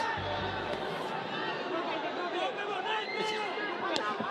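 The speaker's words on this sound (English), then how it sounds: "The crowd on their feet" A boxing crowd on its feet during a fierce exchange between Eumir Marcial and Eddy Colmenares, a dense roar of cheering and shouting voices, with a few sharp impacts and babble underneath.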